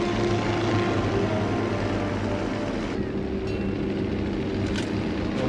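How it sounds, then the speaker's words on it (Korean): A propeller airplane drones steadily in a pursuit scene of a post-apocalyptic movie, a constant loud engine hum with no talk, shifting slightly in tone partway through. "자이로도 비행기를 타고 쫓아옵니다"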